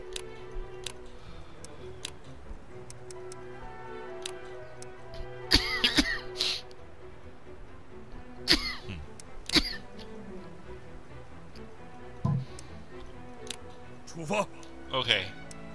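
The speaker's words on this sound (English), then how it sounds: "Sorry about the cough." A man coughs in several sharp, loud bursts spaced a few seconds apart while a strategy game plays in the background. Faint ticking clicks are also heard, but no words are spoken.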